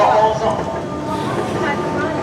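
A train pulls out of a Paris railway station with a loud, close, continuous rumbling roar that fills the short moment.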